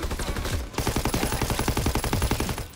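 Rapid machine-gun fire in a first-person shooter game, one short burst then a long sustained stream of evenly spaced shots, loud and close with no talking.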